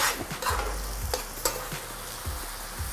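Butter and white soy sizzle in a pan for mushroom toast, a close, soft hiss broken by a few sharp spits and scraping stirs, with no one speaking.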